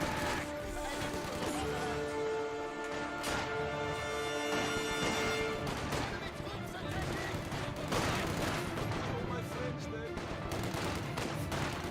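Battlefield gunfire from Company of Heroes 2, with rifle shots from a Grenadier squad and bursts from an MG42 machine gun mixed with crashes, dense and continuous throughout under a busy game soundscape.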